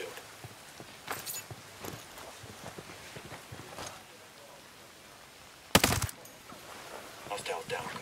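Sniper fire in the tactical shooter game Ghost Recon Breakpoint: one sharp, louder shot stands out against a low, busy background of scattered game ambience, clicks and muffled sounds.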